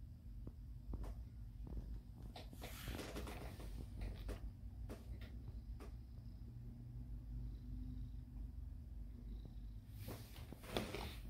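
A domestic cat purring close by, a soft, continuous low rumble with faint rhythmic pulsing, very quiet overall and broken by occasional small clicks and handling noises.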